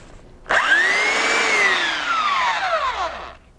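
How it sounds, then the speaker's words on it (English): A belt sander with 80 grit paper starts on pallet wood, its motor whining up sharply, holding a loud buzzing roar for about three seconds, then winding down and stopping. "Now this could go horribly wrong, because a belt sander's pretty aggressive."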